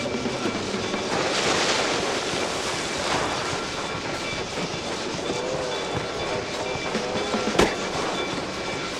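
A train rumbles past in the Mouse: P.I. for Hire video game, with a steady rolling roar and clatter of cars, a sharp metallic bang near the end, no talking.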